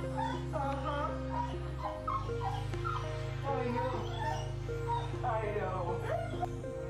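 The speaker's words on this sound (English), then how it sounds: "A soldier comes home after a few months and is greeted by an ecstatic dog." A dog greets a soldier returning home after months away, whimpering and yipping excitedly over a steady low hum, close and continuous throughout.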